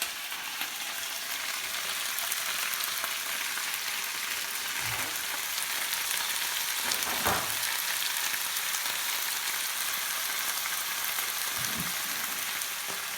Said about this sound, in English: They can join the apples and chilli in that hot pan.